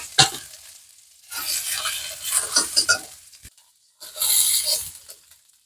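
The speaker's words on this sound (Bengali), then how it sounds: "একটা মাছ ভেজে দিলাম" A single fish fries in a pan in a home kitchen, heard as loud bursts of sizzling and spattering oil that come and go with short quiet gaps between them.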